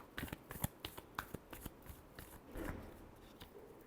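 Tarot cards shuffled by hand in a tarot reading, a run of crisp riffling clicks and soft slaps, close and fairly quiet, ending in a brief rustling burst.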